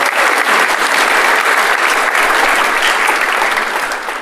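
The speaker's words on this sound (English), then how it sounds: "These guys, yes, they deserve an applause" Dense, loud applause from a convention audience, lasting about four seconds, greets a pair of game designers at a GenCon gaming event, with a few faint voices mixed into the clapping.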